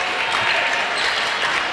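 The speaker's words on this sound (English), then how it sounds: "So a round of applause for those who are coming out" Steady applause at a 2015 girls' high school basketball game between Mediapolis and Columbus Junction, greeting players as they come onto the court, with an even wash of clapping from the crowd throughout.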